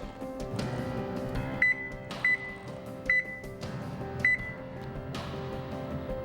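A kitchen timer being set gives short, sharp electronic beeps, five of them at uneven intervals, over low kitchen background noise.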